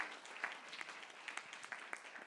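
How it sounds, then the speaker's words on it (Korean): A church youth-service congregation applauds two new worship team leaders, soft scattered clapping at a moderate distance for a couple of seconds. "우리 큰 박수로 한번 경계해 주셨으면 좋겠습니다"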